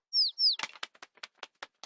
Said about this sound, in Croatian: To je malena ptica došla pogledati Donijev šator.